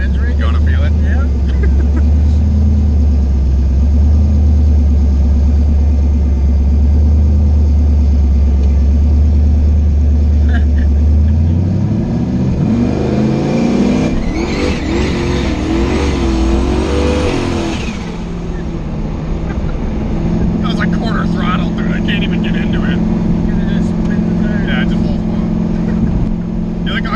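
A Chevstang, a Mustang fitted with a Chevy engine, revs hard and stumbles as the engine breaks up during MicroSquirt tuning, its loud rumble surging and faltering with voices talking over it.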